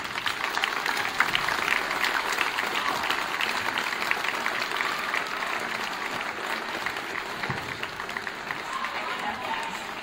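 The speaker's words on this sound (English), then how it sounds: "So give all of them a hand." Steady applause from a crowd in a school gym at a boys' varsity basketball game, dense clapping holding evenly for about ten seconds with faint voices mixed in.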